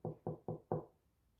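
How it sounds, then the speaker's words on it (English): Four firm knocks on a wooden door, evenly spaced with the last slightly louder, followed by a short fading ring; close and dry, no voices. "When he arrived, the wolf knocked softly."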